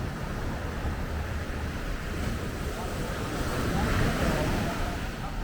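Ocean waves wash onto Kuta Beach in Bali, a steady broad surf roar mixed with wind noise and rising slightly toward the end.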